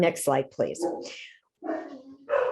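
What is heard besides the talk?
dogs barking in the background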